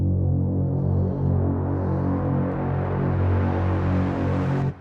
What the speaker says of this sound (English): Add some more reverb again.